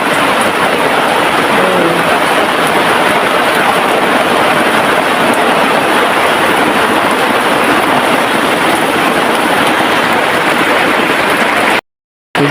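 Heavy rain pours steadily onto tents at the Kampung Rimba camping ground, a loud, dense, unbroken hiss close to the microphone that cuts out abruptly near the end.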